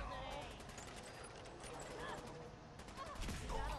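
Enemy gunfire in Fallout 4 crackles in dense, continuous bursts under game noise and a speaking voice, fairly distant and even in level throughout.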